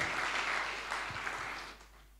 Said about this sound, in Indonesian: Tepuk tangan, kita sambut Tuhan kita.